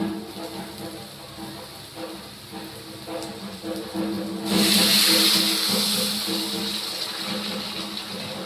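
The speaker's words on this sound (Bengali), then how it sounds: "এবার আমি জলটা ঢেলে দিই, জলটা গরম হয়ে গেছে।" Hot water is poured into a cooking pot of rice, a steady rushing pour that swells louder midway and continues over a quiet kitchen background.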